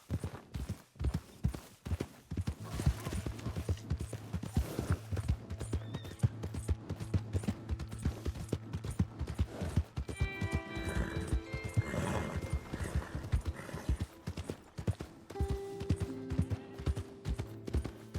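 In Red Dead Redemption 2, a horse whinnies and snorts close by while its hooves clop in uneven bursts, with layered game ambience and occasional tonal sounds in between.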